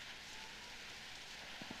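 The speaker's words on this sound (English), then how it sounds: "A pretty good rain falling here." Rain falls in the video game Jurassic World Evolution, a soft, even wash of hiss heard faintly throughout, with a couple of small low knocks near the end.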